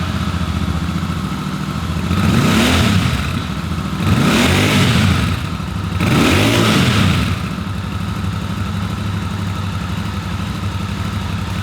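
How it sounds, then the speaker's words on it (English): A 2023 Royal Enfield Super Meteor 650 twin with dual exhausts idles steadily, then gets three short, loud blips of the throttle in even succession, each rising and falling back to a burbling idle. "We quite like the classic design of the Super Meteor with its dual exhaust."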